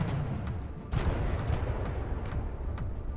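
Rumbling cannon fire and explosions from a naval battle video game, a dense stream of booms with a sharper blast about a second in, no talking.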